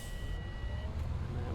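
A bus in the OMSI 2 driving game sits with its engine running and reversing beeps sounding, a steady low engine drone under faint tones that trail off as the engine shuts down.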